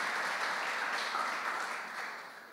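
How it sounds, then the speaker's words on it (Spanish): Church congregation applauding during a Spanish-language worship service, a steady wash of many hands clapping at moderate distance that gradually fades toward the end, with no talk over it. "Damos un aplauso al Señor por su presencia."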